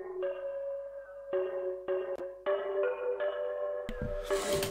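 A melodic line of plucked, sustained notes carries a dotted eighth delay and a vintage vinyl crackle effect, with a noisy burst of texture swelling at the end.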